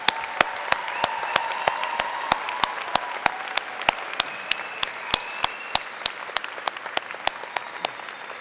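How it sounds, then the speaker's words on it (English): A convocation audience applauds graduates' supporters, a broad steady wash of clapping with sharp, rhythmic nearby claps standing out above it throughout. "Graduates, please join me in applauding the support that they have given you"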